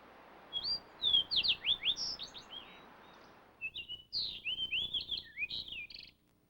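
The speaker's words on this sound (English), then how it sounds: "a more olive-brown seaside sings in the grass" An olive-brown seaside sparrow sings from grass, giving two bursts of buzzy, trilled phrases with sharp chirps, close and clear over a faint background hum, with no voices.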